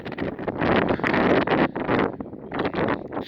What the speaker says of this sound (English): From snow to very windy. It is just ripping out here.